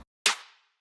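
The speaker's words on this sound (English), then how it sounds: "I use like a hard-hitting trap snare to layer for this one" One punchy trap snare drum hit, a loud crisp crack followed by a short bright decay into silence.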